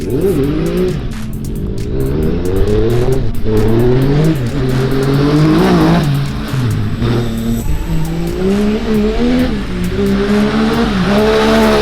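Racing karts at a rally championship final lap a circuit, several engines buzzing and revving with rising and falling pitch as they pass, tires squealing at times, loud and continuous with no voices.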